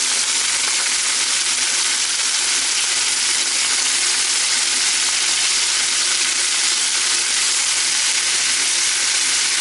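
Tomatoes and parsley sizzle and fry steadily in a pan of browned, fragrant garlic for a pasta sauce, a loud, even hiss running unbroken from start to finish with no voices.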